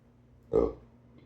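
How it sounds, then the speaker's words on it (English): A single short, low burp sounds up close in a quiet room, lasting about a quarter second before fading back to near silence. "I've been needing to burp for a minute"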